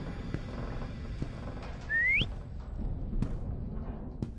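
A single eerie rising whistle sounds in the Lazaret horror video game, thin and fairly faint over a dark, low ambient drone with scattered soft thuds.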